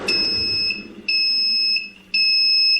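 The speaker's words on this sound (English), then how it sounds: "it means the timer has finished" An Andrew James ice cream maker's timer alarm beeps in three long, steady high electronic tones separated by short pauses, loud and close, with no talking.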